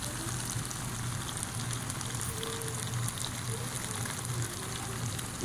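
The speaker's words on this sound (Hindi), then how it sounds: "पाँच मिनट के लिए इसको तेज़ आंच पर अच्छे से स्टिर फ्राई करें" Beef stir fry with a cornflour-and-water slurry sizzles over a high flame, a steady broadband crackle and hiss running continuously at moderate loudness with no talk.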